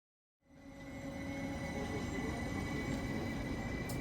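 A commuter train heading out to the suburbs near Helsinki, starting from silence into a steady, loud rolling rumble of wheels and carriage noise with a faint high whine, continuing evenly throughout.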